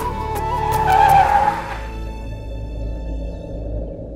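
A car skids to a sudden stop, giving one loud tire screech that fades out within two seconds, followed by a low idling hum.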